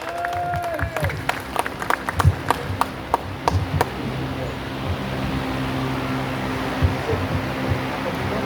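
Audience applause for Anies Rasyid Baswedan at the Al Islah Sendang Paciran Islamic boarding school, heard as a burst of scattered sharp claps in the first few seconds that gives way to a steady crowd murmur and hum.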